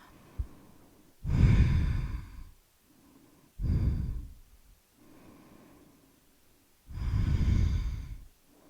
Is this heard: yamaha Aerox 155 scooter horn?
no